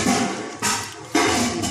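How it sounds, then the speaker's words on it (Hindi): Water poured into a tamarind chaat mixture, a close splashing gush that comes in two bursts, briefly fading between them. "अब इसमें और पानी भी ऐड होगा"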